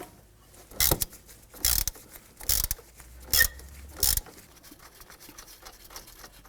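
Five short, sharp metallic bursts spaced about a second apart, like a power tool or impact wrench removing steering knuckle bolts on a 2005-2009 Subaru Legacy, with quiet shop noise between them.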